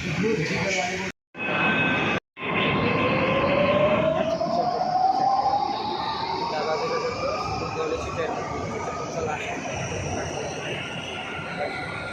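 A metro train runs with a rising electric whine and steady rumbling roar, briefly cut out twice near the start, then a long even hum.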